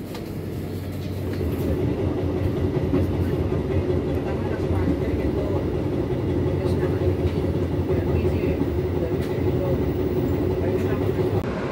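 Pandalungan executive class train rolling out of Tanggul station, a steady loud rumble of wheels and carriage running continuously throughout with faint clicking of the rails.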